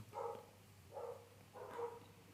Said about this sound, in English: There's a dog barking in the background.